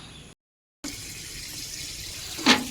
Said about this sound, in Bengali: কলের জলটা যত নিচু হবে তত জলটা বেশ স্পিড হয়